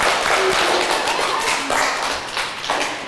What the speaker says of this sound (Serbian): Ajme jedan aplauz, bravo za vas